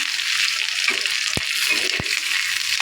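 Steady sizzling of chanda fish frying in a pan, with a couple of brief scraping stirs as coriander leaves are mixed in; no voices.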